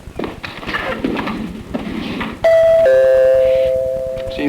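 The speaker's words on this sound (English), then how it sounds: "Why are you ringing your own doorbell?" A household doorbell rings out loudly with a bright, sustained two-tone chime that lingers and fades, following a stretch of quieter background noise and muffled voices.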